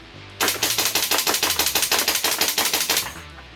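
A King Arms TWS 9mm SBR gas blowback airsoft rifle running on 100 PSI HPA fires one full-auto burst of about twenty sharp, rapid, evenly spaced shots, loud and close, then stops.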